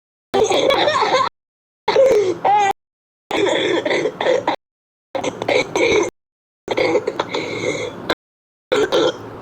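Repeated bursts of coughing and throat-clearing, several fits separated by short silences, close and loud, with some giggling mixed in.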